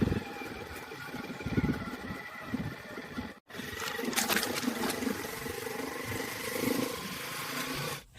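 A tractor engine runs steadily and close by throughout, a rough, continuous low rumble with a brief cut-out near the middle before it resumes at a similar level.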